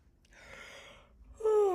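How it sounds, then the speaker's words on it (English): A big yawn made during a voice lesson, a long breathy stretch of open-throated air that ends in a louder voiced rise, heard close and alone. "Can you try a big yawn for me?"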